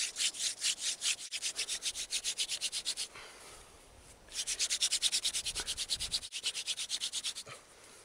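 A wooden hand drill spun between the palms to start a friction fire outdoors makes steady, rapid rubbing strokes in two rhythmic bursts with a short pause between them, close and alone.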